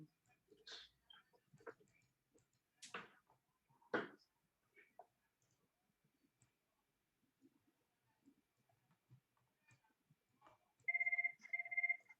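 A phone rings for an incoming call during an online working session, two short bursts of electronic ringing close by at the end, after soft clicks and rustles.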